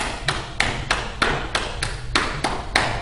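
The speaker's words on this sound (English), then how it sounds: "a full beat is like a drum beat, and it would sound like that." Steady full-beat tapping like a drum beat, about ten evenly spaced crisp taps at a moderate pace, close and clear with no voice over them.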